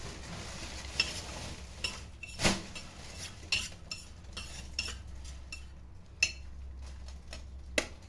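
A fork whisks eggs in a bowl for an omelette in a home kitchen at breakfast: light metallic clinks and taps come irregularly against a soft, steady stirring swish, quiet and close, with no voices.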